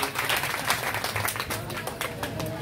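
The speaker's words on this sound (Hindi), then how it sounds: "एक बार जोरदार ताली हो जाए हमारी सभी माताओं के लिए" Clapping from the audience at a Bhagwat Katha, a brief burst of applause for the mothers, moderately distant and steady throughout the short stretch.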